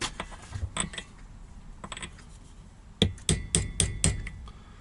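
Oil seal being tapped into its housing on a petrol brush cutter, a run of six or seven sharp metallic knocks in the final two seconds after softer clinks and handling noise.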